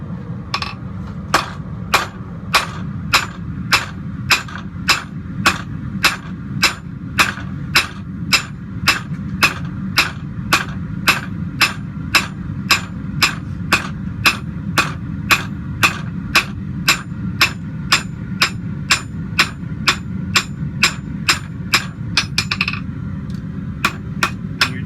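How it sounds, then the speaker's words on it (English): A blacksmith hammers hot metal on an anvil while flattening the finger well of a hand-forged candle holder, striking loud ringing blows in a steady, even rhythm of about two per second, over a low hum. "flatten out the finger well on this side of your piece. We're going to go over the anvil and do that."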